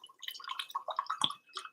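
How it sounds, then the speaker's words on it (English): Liquid for a sweet gum herbal medicine is poured into a container, giving close, uneven trickles and drips with small gurgles over a couple of seconds. "I'm going to temporarily pour this in here."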